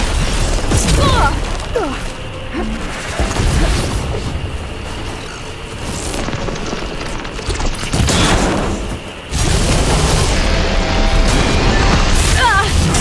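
Heavy gunfire and booming blasts in a Horizon Forbidden West battle fill the scene, loud and dense with scattered pops and mechanical clanks, while shouting voices cut through the fighting.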